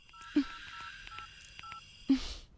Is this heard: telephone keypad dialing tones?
yes